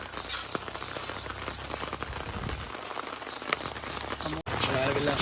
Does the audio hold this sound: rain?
yes